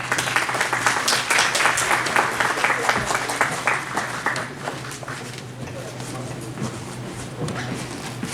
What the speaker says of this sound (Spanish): Un aplauso para nuestro ponente.